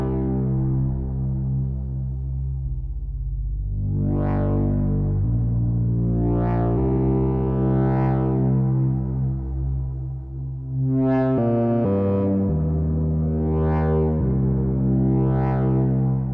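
A Eurorack multi-effects unit on its reverb setting washes a synth patch in lush reverb, sustained tones blooming and decaying in several swelling, pitched pulses over a steady loud drone, with no talk.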